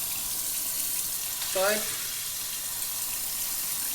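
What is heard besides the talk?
water flowing from a tap through a Philips water filter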